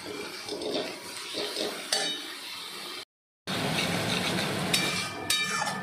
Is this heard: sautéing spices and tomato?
yes